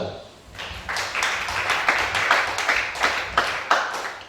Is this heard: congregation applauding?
yes